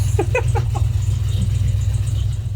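An RV's engine idles steadily, producing a continuous low rumbling drone close by, with a few faint higher clicks and taps over it and no talking.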